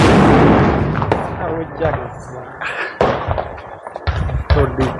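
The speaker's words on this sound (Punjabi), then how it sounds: "ਜਿਹੜਾ ਪੜਾਕਾ ਚਲਾਉਣ ਲੱਗਣਾ ਮਿੱਤਰੋ" Diwali firecrackers go off in a string of sharp, loud bangs and crackles, several bursts spread irregularly through the clip with crowd voices and shouting in between.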